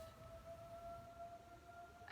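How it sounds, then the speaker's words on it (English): Outdoor civil warning sirens sound during their monthly test, a steady, faint wavering tone held throughout against a low rumble of background noise. "I think it's the first Wednesday of the month, they do the sirens."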